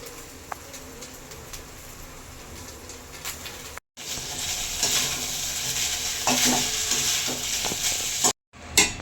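Rice stir-fried in a pan at home, a quiet sizzle that swells into louder frying with scraping stirs after a short cut, with a bird cooing faintly in the background.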